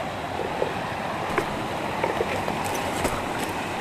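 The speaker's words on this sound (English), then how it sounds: "I'll show you the creek where we've been getting our water." A creek flows steadily outdoors at dusk, a continuous broadband wash of running water with faint splashes and ripples, moderately close and with no talking.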